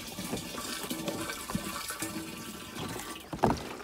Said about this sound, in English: So what I'm doing with that at the moment is just pouring in here.